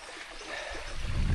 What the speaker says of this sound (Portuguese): A água é tratada aqui em cima e devolvida para o córrego